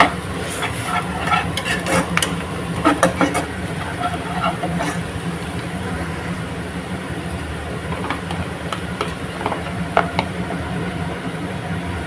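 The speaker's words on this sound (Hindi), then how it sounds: "प्याज और बेसन साथ में पका देंगे" Onion and gram flour (besan) frying and being stirred in a pan for a Kerala-style rahu fish curry, giving a steady sizzle with scattered scraping stir clicks, close and continuous with no talk.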